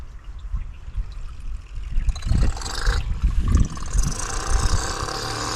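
A 12-volt pump moves spring water, giving a gurgling, splashing flow that starts quietly and grows louder and rougher after a couple of seconds, with a mechanical churn underneath.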